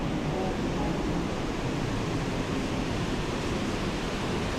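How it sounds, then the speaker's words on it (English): Steady broadband roar of a waterfall on the Trail of Ten Falls in Silver Falls State Park, Oregon, heard up close from the path behind the falling water, continuous and loud with no voices. "The third walk behind waterfall so far."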